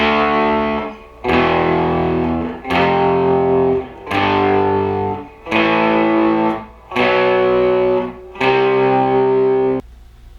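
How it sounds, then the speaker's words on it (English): An electric guitar plays a power chord through an amplifier set to a classic crunch distortion, struck six times in a steady rhythm, each chord ringing loud and sustained before a brief silent gap. "We're using a classic crunch sound on the amplifier."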